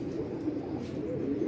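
Young squab pigeons, freshly tethered and released on the ground, coo softly in a low, continuous murmur that stays steady and fairly near throughout, with no talking over it.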